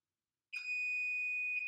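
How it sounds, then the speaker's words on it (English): Oven timer signalling the oven has reached 400 degrees, a single steady high electronic beep tone that starts abruptly after silence and holds for over a second, clear and moderately quiet. "the timer's gonna ding and tell me that my oven is at 400 degrees"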